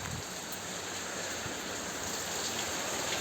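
Heavy rain pouring down during a windy thunderstorm, a steady, dense hiss of water falling close by, unbroken throughout.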